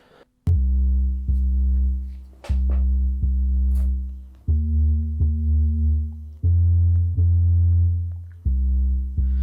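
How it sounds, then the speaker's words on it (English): A deep synthesizer sub bass from an OP-1 plays a slow sequence of sustained notes, each starting with a soft click and fading slightly, with faint overtones above. "I actually did the bass on this little device called OP1."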